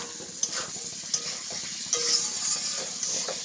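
Spice masala being stir-fried with chicken and ground tomato paste after a splash of water, a continuous sizzle broken by occasional utensil scrapes and taps against the pan, close up with no voices.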